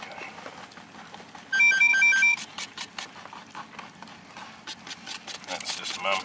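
A telephone rings in a short burst of repeated electronic trills, clear over a quiet room with scattered clatter and faint background activity around it.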